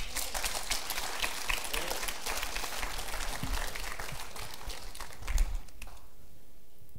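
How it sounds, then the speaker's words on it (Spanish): A church congregation applauds together in a dense, sustained patter of many hands clapping at a moderate distance, fading away toward the end. "Dele un aplauso al Señor."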